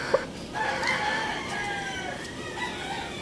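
A golden broodcock rooster from AEJ Farm crows once, a loud, clear drawn-out call close by, ending in a trailing note over faint farmyard background.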